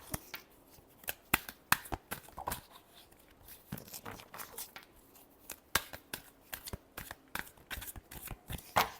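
Tarot cards are shuffled by hand in quick, crisp bursts of riffling and slapping, repeated through the whole stretch with short pauses between.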